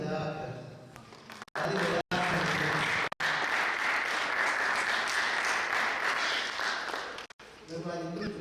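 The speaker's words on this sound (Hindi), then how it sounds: "ताली बजाकर" Audience applause from a congregation at a Hindi church service, loud, sustained clapping filling most of the stretch with a few brief breaks, speech before and after.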